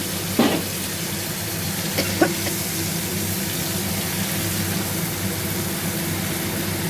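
Steady, close sizzling of poppy seeds frying in a wok, with a couple of brief clinks or scrapes near the start.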